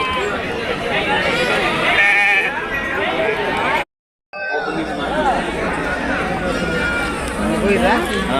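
Goats and billy goats bleat repeatedly amid a busy crowd of chattering voices at a weekly livestock market in Prakasam district, Andhra Pradesh, loud and close, with a brief cut to silence midway.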